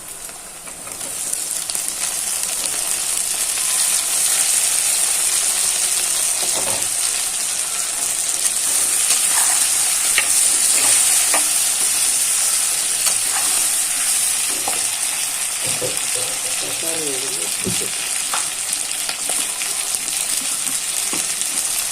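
Onions and tomatoes fry in a pan with a loud, continuous sizzle that holds steady throughout, broken by occasional spoon scrapes and light clinks, and no talking.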